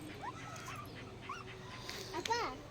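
A dog whimpers and yips in short, high, wavering bursts amid outdoor chatter, with people talking nearby throughout.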